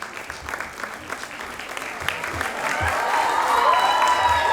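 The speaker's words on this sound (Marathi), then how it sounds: "जोरदार टाळ्या झाल्या पाहिजेत" An audience at a Marathi film promotion and music launch claps, the applause starting moderate and steadily swelling into a loud, dense ovation with some cheering.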